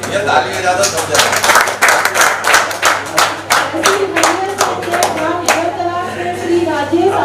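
An audience at a government property-rights record distribution ceremony claps hands, a close, loud burst of distinct claps in an uneven rhythm, with someone speaking over them before the clapping fades out.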